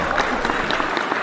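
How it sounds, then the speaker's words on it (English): Live clapping in a news podcast studio, a dense, loud burst of hand claps filling the whole short stretch without pause. "Live clap."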